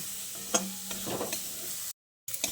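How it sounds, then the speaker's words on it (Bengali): Grated cauliflower stirred with ground spices in a pan, soft scraping and light sizzle in short strokes, close and quiet, broken by a brief silent gap near the end. "এবার গুঁড়ো মশলাটা দিয়ে আবারও সব কিছুকে একসঙ্গে ভালো করে নেড়ে চেড়ে মিশিয়ে নিচ্ছি।"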